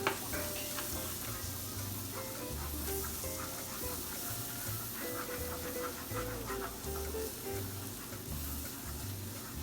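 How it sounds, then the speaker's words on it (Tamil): Flour being stirred into melted butter in a pan for a creamy chicken pasta sauce gives a steady, close sizzle with continuous scraping of the spoon and no talking. "நீங்கள் கை விடாமல் கிளறோணும்"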